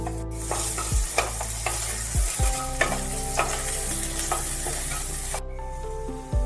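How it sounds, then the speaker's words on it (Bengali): Diced eggplant sizzles and fries in a pan after a pinch of salt, with a steady hiss broken by repeated sharp scrapes and knocks of a spatula against the pan. "এগুলোকে ভেজে নিতে হবে। অল্প করে একটু লবণ দিয়ে দিচ্ছি।"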